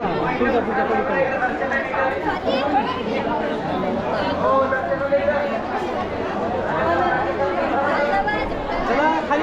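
Dense crowd chatter at the Jejuri temple fort, with many overlapping voices forming a steady, loud babble that runs throughout.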